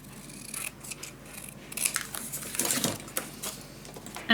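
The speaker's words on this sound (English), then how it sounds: "I'm gonna cut this in two." Scissors cut leftover paper pieces for a scrapbooking craft, giving a series of crisp snips and rustles at an irregular rhythm, close and fairly loud, ending with a sharp click.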